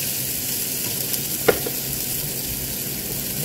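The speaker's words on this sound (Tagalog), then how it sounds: "silipin po natin ang ating ginigisa" Chinese chorizo and pork steak sautéing in a pan, a steady close sizzle and crackle with one brief knock of a utensil partway through and no voices.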